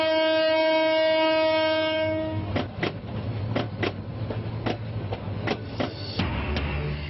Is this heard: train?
yes